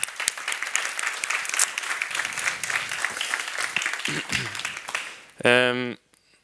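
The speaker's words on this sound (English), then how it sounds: "Round of applause." A conference audience on fire safety at sea breaks into a steady round of applause lasting several seconds; it ends abruptly and a single voice briefly follows.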